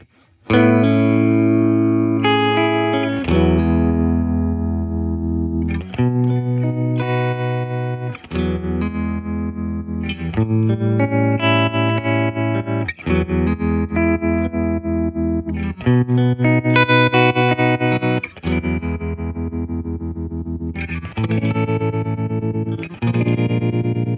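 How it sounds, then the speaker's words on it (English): An electric guitar plays sustained, wavering chords through a Fender Tone Master Deluxe Reverb amp's tremolo effect, loud and steady across a long passage without any talking. "we think we found it in the tremolo. Well, let's take a listen. I'll play some"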